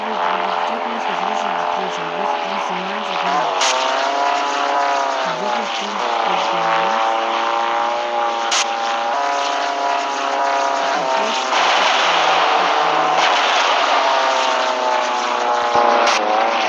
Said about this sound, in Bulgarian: Ще бъде с американски самолети.